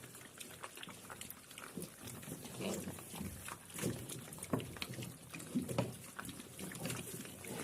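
Faint, steady crunching and snuffling of piglets eating feed pellets, with occasional soft grunts and rustling close by.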